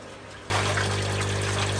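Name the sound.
water pumping into aquarium tank from filter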